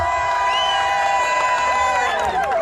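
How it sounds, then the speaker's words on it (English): An audience at a drag stage competition finale in Turkey cheers loudly for a contestant, with sustained crowd roar and high whoops and shouts that rise toward the end. "I need you to cheer for your favourites"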